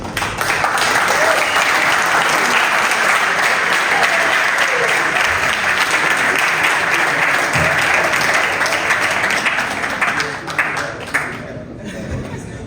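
An audience claps loudly and continuously at a college ceremony celebrating Rwandan Liberation, the applause staying dense throughout before thinning out near the end.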